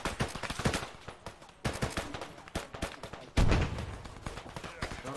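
Loud, close gunshots and bursts of automatic fire in a military shooter game crack in irregular volleys, with one heavy blast partway through.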